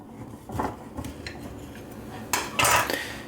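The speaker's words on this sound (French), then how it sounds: "je coupe mon sablé en deux" A knife cutting through a shortbread filled with caramelized apples on a plate, with light scraping and clinks of metal against the dish that build to a louder cluster near the end, close and without speech.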